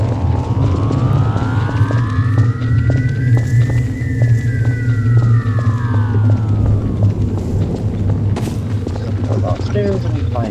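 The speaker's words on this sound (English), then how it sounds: "you can hear a police sound in the background." A wailing, siren-like electronic tone sweeps up and back down over a low, droning rumble, loud and continuous, resembling a police siren, in the Kino Der Droiden zombies video game map.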